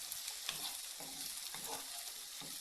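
Purple onions sauté in a pan with a continuous bright sizzle, broken by soft rhythmic scrapes and taps as they are stirred, close and steady with no voices.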